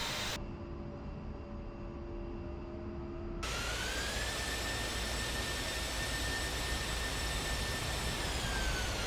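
Jet engine of an aircraft taxiing in the Iron Flag flight video game, a steady loud roar with a rising whine that holds a high tone throughout; the noise briefly thins early before swelling back to a constant drone.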